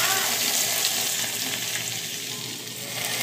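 Hot oil poured into momo sauce made with tomato ketchup sizzles loudly and steadily, a dense close hiss that fades slightly midway and then swells again.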